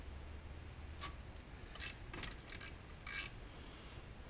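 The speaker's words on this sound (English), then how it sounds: "These little ratcheting screwdrivers work really good for doing stuff like this" A small ratcheting screwdriver working screws on a REO engine during disassembly, giving faint, brief clicking ratchet bursts in a few short clusters over a quiet background hiss.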